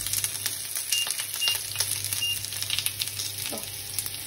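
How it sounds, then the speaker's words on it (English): Ginger, garlic, green chili and onion sauté in a hot pan with a steady, close sizzle, broken by light scraping and stirring clicks throughout. "First goes adrak lahsun and green chili over here. Saute it a little bit. Then goes the onion."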